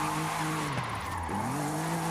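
A car drifts in the racing game Forza Horizon 5, with a loud continuous engine roar and wavering tire squeal, the pitch dipping and recovering as the slide is relaunched with the handbrake.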